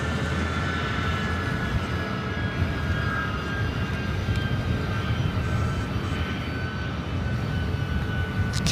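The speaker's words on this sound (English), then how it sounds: "we got another 757 now pushing back as well" Boeing 757-200 jet airliner pushing back at LAX, a loud, steady engine roar with a persistent high whine running throughout, close by and unbroken.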